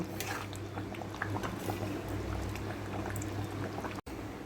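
A light, thin chicken curry seasoned with garam masala bubbles steadily in the pot, a continuous close simmering hiss with soft stirring movements throughout and a brief cut near the end.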